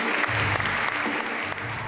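Loud, sustained applause fills a fashion show in Paris, greeting an Australian designer's collection with dense, steady clapping and a few sharper accents throughout.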